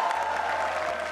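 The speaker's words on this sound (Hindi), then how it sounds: "जोरदार तालियां हो जाए." A brief burst of studio audience applause on a TV talent show, dense and steady, with a faint tonal hum running underneath.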